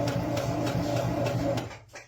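A sewing machine stitching fabric for a boffer sword cover, running in a steady rapid whir with regular clicks for about a second and a half before stopping.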